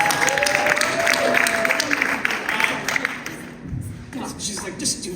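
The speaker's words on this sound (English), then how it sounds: "Can we get another round of applause for Belle" Applause for Belle at a DNC AAPI Caucus meeting, moderate and steady for several seconds with voices talking over it, fading toward the end.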